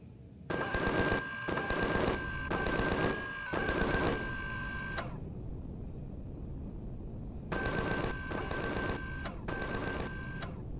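Automated turret in the video game Empyrion firing bursts of rapid, rattling gunfire in two clusters separated by a quieter gap, loud and close, with an electronic tone running through each burst.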